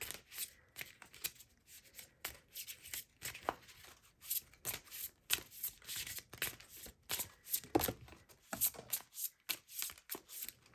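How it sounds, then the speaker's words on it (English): Oracle cards shuffled by hand in a long run of quick papery riffles and slaps, close and fairly soft, with brief pauses between bursts and no talking. "Let's go ahead, draw some oracle cards and see what else is coming through for you."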